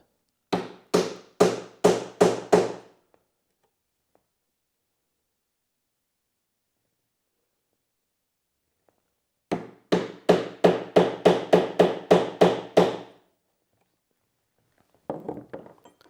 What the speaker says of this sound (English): give it a couple of hits with the mallet